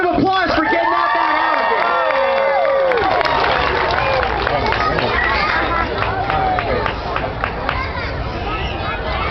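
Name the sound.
crowd applauding and cheering for alligator handler Andy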